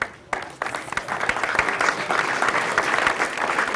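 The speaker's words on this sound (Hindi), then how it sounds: "जी तालियां बहुत" An audience breaks into loud, dense applause at a farmers' recognition gathering, swelling in after a brief quiet moment and holding steady to the end with no one talking over it.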